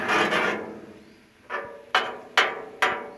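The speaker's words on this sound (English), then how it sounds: "We're gonna slide it over here to the cool side of the griddle." Cooked bacon scraped and slid across a hot Blackstone griddle, a long scrape followed by four sharp metallic spatula strikes and scrapes, close and distinct, with no voices.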